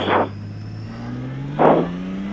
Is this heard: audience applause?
no